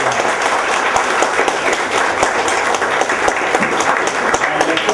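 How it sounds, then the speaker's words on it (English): An audience at a Republican U.S. Senate campaign meet-and-greet in Virginia gives loud, continuous applause, a close, full wash of clapping throughout. "let's give a big round of applause to Senator Dick Black."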